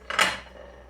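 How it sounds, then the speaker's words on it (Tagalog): Ceramic plate clinks against other dishes as it is lifted from a stack in a home kitchen, one short bright clatter followed by quiet rattling, fairly close. "Kuha muna tayo ng"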